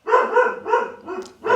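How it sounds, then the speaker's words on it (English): A dog barks several times in quick succession, loud and close, with a short pause before a final bark. The barks come from a pet heard indoors during a DIY build. "That's my dog."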